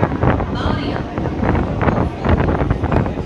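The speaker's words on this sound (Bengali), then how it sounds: "আর এই ট্রেনের হাওয়া দুর্দান্ত লাগছে।" Wind roars steadily past a moving Howrah–Digha local train on an overcast morning, a loud broadband rush with rattling and rumble, close to the microphone and without a break.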